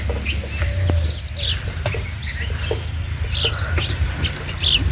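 Pet pigeons with their chicks at a home coop, heard as scattered soft coos and chirpy calls over a constant low rumble of background noise, fairly close, with no talk.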